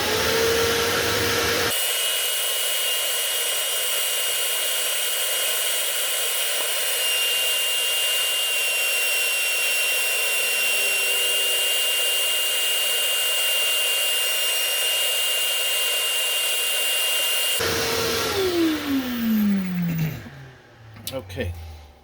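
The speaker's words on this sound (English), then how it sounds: "I'm gonna turn on my vacuum" A household vacuum cleaner, used during paint work on a 1969 Oldsmobile Pro Street, switches on with a loud, steady whine that holds for about fifteen seconds, then winds down as it shuts off.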